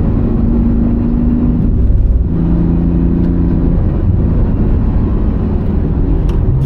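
A Porsche 911 GT2RS on new tyres laps a track with its fuel nearly empty, a loud, steady engine drone and whir heard from inside the car, with slight pitch shifts as speed changes.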